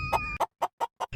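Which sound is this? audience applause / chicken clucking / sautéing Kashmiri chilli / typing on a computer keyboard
chicken clucking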